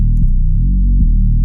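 A deep, buzzing Reese bass synth in a hyperpop beat holds loud sustained low notes and glides smoothly between pitches with long, audible slides. Nothing else plays alongside it.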